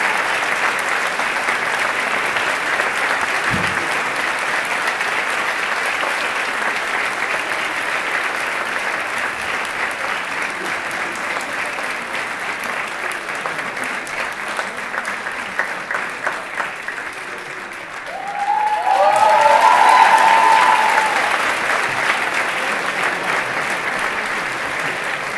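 An audience applauds steadily for a friar, fra Ante Bešlić, as he is welcomed to a talk; the clapping fills the room loudly and evenly for over twenty seconds, with a brief tonal squeal near the end.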